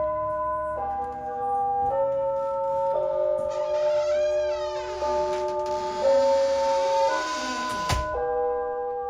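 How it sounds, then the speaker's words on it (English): An old house doorbell rings with a sustained, shifting multi-tone chime that wavers and slides through several pitches. It is fairly loud and close, and no one speaks over it. "Now that's a doorbell."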